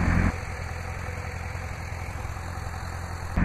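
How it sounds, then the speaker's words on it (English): A 2007 Chevrolet C6 Corvette Z06 with the 7-liter LS7 427 cubic inch 505 horsepower V8 idles, a steady, close, low rumbling drone that holds evenly throughout with no talking. "505 horsepower V8 engine."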